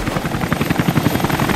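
Loud helicopter rotor in Rise of the Tomb Raider, a rapid, steady thudding chop close by that fills the whole stretch without pause and with no talk over it.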